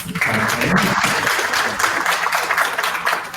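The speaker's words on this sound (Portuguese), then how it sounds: "Pode aplaudir, gente." Audience applause at an academic talk on an ethnomathematics programme, a steady wash of clapping filling the room for a few seconds with some murmuring voices underneath.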